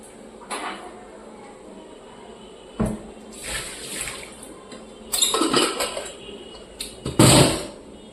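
Hands are washed under a running tap in a home kitchen, heard as intermittent bursts of splashing water mixed with scattered knocks and clatter.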